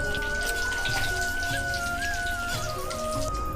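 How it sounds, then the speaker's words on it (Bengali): Cinnamon, four cloves, cardamom and a bay leaf crackle and sizzle steadily in hot oil, a dense close frying hiss with faint popping that runs without pause through the whole stretch, no talk over it. "তারপর একটা দারচিনি, 4টে লবঙ্গ, একটা এলাচ ও একটি তেজপাতা দেব।"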